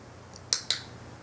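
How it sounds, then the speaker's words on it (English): A dog training clicker gives a sharp double click, press and release in quick succession, close and crisp against a quiet room. "when the dog looks at your eyes, click."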